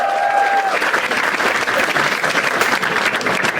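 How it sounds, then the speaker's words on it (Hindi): A crowd at a live comedy roast claps loudly in a continuous burst for a Bigg Boss contestant. A brief whistle-like tone rises over the applause at the start. "एक बार आवेश के लिए ताली बजा सब"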